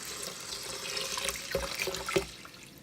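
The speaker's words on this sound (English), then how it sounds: "Now I'm going to put in the water." Water pours into an Instant Pot holding elderberries, a soft splashing trickle with a few louder gurgles, close and fairly quiet.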